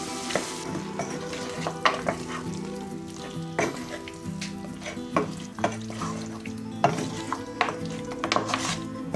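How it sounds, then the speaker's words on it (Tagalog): Beef pieces being stirred through sauce in a hot sizzling pan, with a steady fry underneath and frequent scraping knocks of the utensil against the pan. "mix lang ng maayos para makover ng sauce ang meat"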